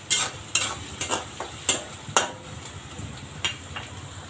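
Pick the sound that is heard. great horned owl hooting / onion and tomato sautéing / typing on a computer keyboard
onion and tomato sautéing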